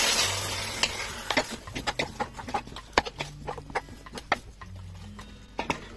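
A spoon stirring parsley and vegetables in a pot of harira soup, with a run of irregular clinks and scrapes against the pot, close and fairly crisp, alone without talk.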